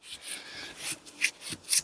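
Black & Decker needle scaler working over a car's rear suspension casting during rust removal, giving a dry, raspy scraping close up in short bursts with a few sharper peaks, no voices.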